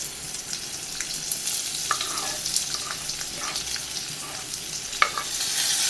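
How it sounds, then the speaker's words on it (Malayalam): Sliced onion sautéing in a pan with steady sizzling and repeated scraping stirs, close and continuous, with no voices, while preparing garlicky fenugreek-leaf Lasooni Methi. "ഈ സവാളയും കൂടെ നമുക്കൊന്ന് ഇളക്കി വഴറ്റിയെടുത്തുകൊണ്ട് വരാം"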